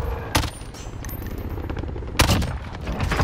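Automatic rifle bursts in Call of Duty: Modern Warfare, two sharp loud volleys a couple of seconds apart over a constant background of game ambience, with no talk over them.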